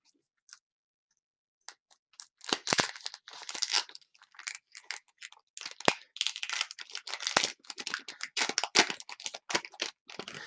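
A trading sketch card slides into a plastic sleeve, giving a run of close crinkly rustles and small clicks that start sparse and grow busier, with no one talking.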